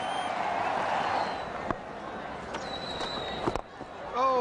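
A cricket crowd at a Bangladesh one-day international against New Zealand in 2008 roars and cheers at a batting milestone. The noise is loud at first, then fades into a murmur broken by sharp bursts.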